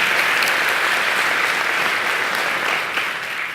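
Audience at a PEP Rally for Kids banquet applauds the meal servers, with loud, dense clapping filling the room and staying steady before easing slightly at the end.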